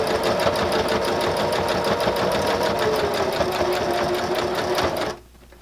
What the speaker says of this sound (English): we're going to stitch over these beginning stitches to lock them in place